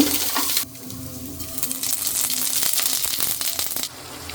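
Mixed vegetables with cabbage and spices fry in a karahi, a soft steady sizzle with a few clinks and stirring scrapes, loud for a moment and then fading after the pan is covered.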